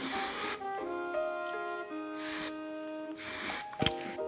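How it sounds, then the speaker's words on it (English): Hairspray hisses onto hair in three distinct bursts of about half a second each, close and loud, with soft music playing underneath. "So what I'm gonna do, I'm gonna take both sides, I'm gonna spray it first."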